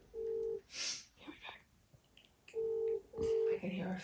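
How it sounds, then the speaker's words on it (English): A telephone gives two short electronic ring or tone bursts, close and clear, with quiet voices between them. "I can hear our phone ring."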